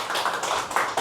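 An audience applauds a participant at a confidence-building activity, giving a brief burst of dense, even clapping that fills the whole moment without any talking.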